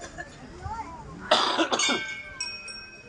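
A single harsh cough bursts out midway, close and loud, with softer voice-like sounds before it and faint clinking afterward.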